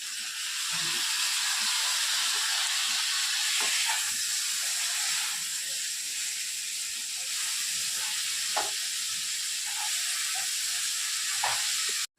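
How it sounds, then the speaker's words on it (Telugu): Tomatoes fry with onions in a hot pan, giving a steady, loud, broad sizzle and hiss that holds unbroken for about twelve seconds, with faint utensil taps now and then. "క్లియర్గా వేగినప్పుడు ఈ టమాటాలు వేసేసుకోవాలి"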